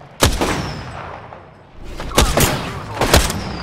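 Gunfire from a weapon in the Apex Legends video game: a loud sharp shot, then after a pause a rapid cluster of several more shots, with game ambience between.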